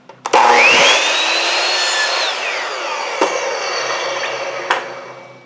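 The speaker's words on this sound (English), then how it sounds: "So we need to cut these at 4½ inches, and we actually need to cut this straight." A power saw cuts a wood piece for a wine bottle bird feeder, giving a loud whine that rises as the blade spins up, a sustained cutting roar and a slow wind-down, with sharp knocks and no talking.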